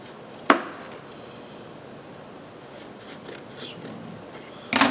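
A glued tab on a cone being cut, producing two sharp, crisp snips a few seconds apart, close and fairly loud against a quiet room.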